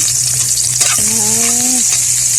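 Garlic sautéing in hot oil after onions, a steady close sizzle and frying hiss with a stirring scrape partway through, while a brief tonal squeak rises above the crackle.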